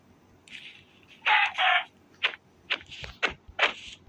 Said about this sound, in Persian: مرغ‌های بازی عوض شده